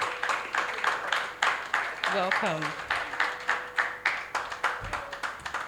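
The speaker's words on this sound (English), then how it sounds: "The clap could be louder. It could be stronger." An audience at a youth event on peace and prosperity in the Niger Delta claps in a steady rhythmic beat, moderately loud and sustained, with someone speaking briefly over it.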